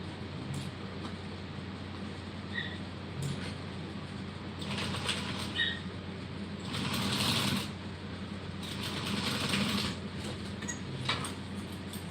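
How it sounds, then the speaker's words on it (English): A sewing machine top stitches across the end of a fabric bag, a steady close mechanical whir with a few louder bursts and pauses in the stitching, with no speech. "And then top stitch this on the end here."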